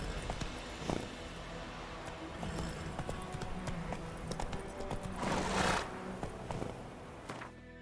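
Roach, the horse in the video game The Witcher 3, gallops with a continuous run of clip-clopping hoofbeats that grows louder in a brief burst partway through.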